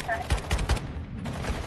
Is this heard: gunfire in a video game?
yes